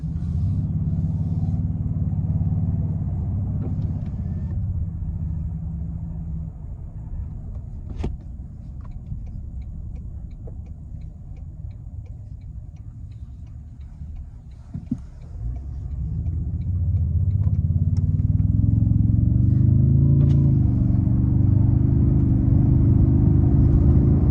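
A 2024 Toyota Tundra TRD Pro's twin-turbo V6 hybrid drivetrain gives a steady low exhaust rumble from inside the cab, easing off midway and then swelling louder and rising in pitch as the truck accelerates.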